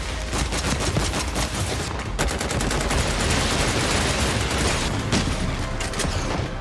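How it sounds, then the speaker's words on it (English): Rapid, sustained gunfire from the shooting game Synced: Off-Planet, built from recordings of real weapons, hammers on as loud, dense volleys of overlapping shots with no pause and no voices. "All the gun sound assets are recorded from real weapons in various exterior and interior environments"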